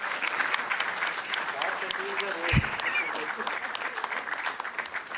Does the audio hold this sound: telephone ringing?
no